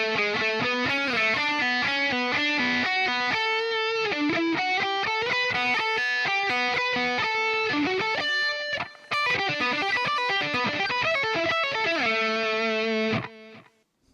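Clean-toned electric guitar playing a verse slowly, a clear run of single melodic notes and slides, loud and alone, ending with a sustained note.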